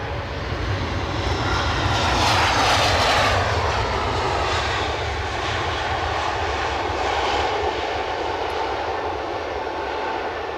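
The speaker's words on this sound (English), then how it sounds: "So we got- Cessna Citation Ultra" Cessna Citation Ultra business jet at Edinburgh airport, its engines producing a loud, steady roar that swells slightly around the middle and then holds constant, with no voices present.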